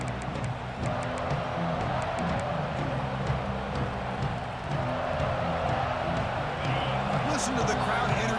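Dense, steady stadium crowd roar at a Notre Dame at Texas football game fills the space, a broad wash of many voices with no single sound standing out, continuous and fairly loud throughout.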